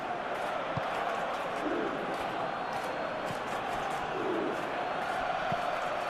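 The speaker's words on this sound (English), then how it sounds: "Well, the crowd clearly like what they just saw." A stadium crowd in the PES 2021 football video game roars in a steady, broad wash of cheering that holds throughout with a few muffled thumps beneath.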